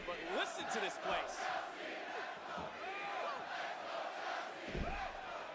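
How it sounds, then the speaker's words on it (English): A wrestling arena crowd in the WWE 2K25 video game chants for the competitors during an NXT event, a loud, rolling mass of voices with rising and falling shouts that carries on throughout. "the crowd's chanting for Chelsea here and Thea at the same time"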